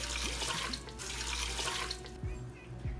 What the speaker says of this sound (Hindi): पानी डालेंगे 2 कप।